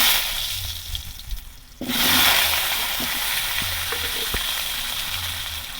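Potatoes sizzle and hiss in hot oil in a pan, a steady dense crackle that surges louder after a brief dip, with occasional faint clinks, no voices.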